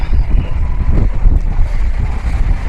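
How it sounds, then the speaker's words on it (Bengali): Wind buffets the open deck of a 17-deck cruise ship on the Atlantic, sailing from New Jersey to Halifax, a loud, steady low rumble with gusty microphone buffeting and no talk. "সূর্য উঠেছে কিন্তু এখনো বাতাস এবং ঠান্ডা।"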